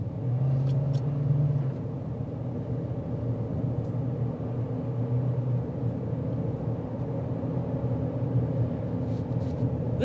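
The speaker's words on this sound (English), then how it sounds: "You're going to hear the engine escalate quite a bit, but that is to be expected, especially if you are flooring it." A 2026 GMC Terrain AT4's turbo four-cylinder engine pulls under acceleration, a steady low drone and rumble holding near-constant loudness for the whole stretch, heard from inside the cabin.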